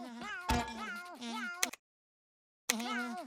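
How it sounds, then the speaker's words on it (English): A cartoon snail in SpongeBob meows exactly like a cat, giving several drawn-out, close meows, falling silent for a moment, then meowing again. "your snail's still meowing?"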